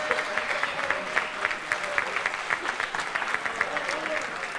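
Applause fills a conference hall at a tribute event for comics artist Carlos Pacheco, many people clapping in a steady, rippling wash with individual claps standing out, sustained throughout without a break.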